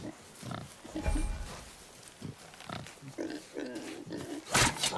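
A wild boar in the God of War video game grunts and snorts repeatedly at close range, loud and rough, over a bed of game ambience.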